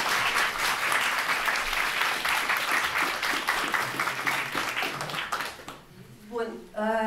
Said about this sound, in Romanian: Și câteva aplauze pentru invitația.